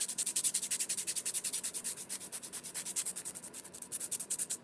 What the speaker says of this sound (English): So I'm going to go under the nail, and I'm going to sand under.